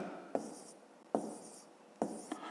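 Numbers being written by hand with a pen on paper, three short scratchy strokes in quick succession, close and fairly quiet.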